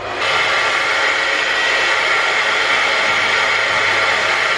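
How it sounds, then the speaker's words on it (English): A handheld hair dryer blows steadily on a wrapped, sleek long braided ponytail, giving a loud, continuous broadband whoosh with a low motor hum underneath, unbroken for the whole stretch and with no talking. "I'm literally just going to blow dry it so that it sticks"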